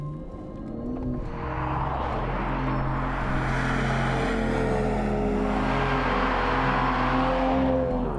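An Aston Martin DB11 AMR engine revs and accelerates hard on the Autobahn, its pitch climbing through gears, loud and close with a continuous roar.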